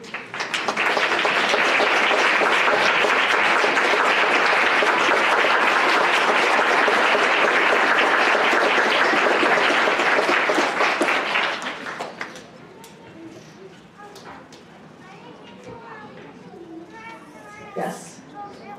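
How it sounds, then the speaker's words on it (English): Audience at a school board meeting applauding students, family and friends: sustained dense clapping for about eleven seconds, then fading into scattered claps and murmuring voices. "if you wouldn't mind standing so we could also give you a round of applause"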